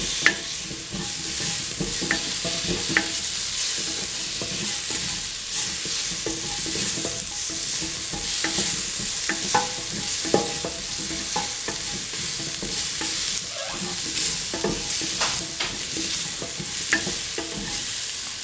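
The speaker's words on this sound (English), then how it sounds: "sauteing the food" Kidney beans and potato saute in a pan, giving a steady sizzle and frying crackle throughout with occasional stirring scrapes and clicks, fairly close and even in loudness, with no voices.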